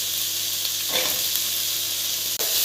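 Ginger and garlic sautéing in a pan for a mutton and vegetable curry, giving a steady close sizzle that runs throughout, with a few brief clatters from stirring and no voices.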